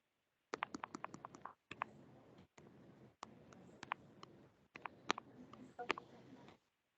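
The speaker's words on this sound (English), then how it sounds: "Somebody typing something?" Someone typing on a computer keyboard during an online meeting, with quick bursts of crisp key clicks separated by brief pauses, close and fairly quiet.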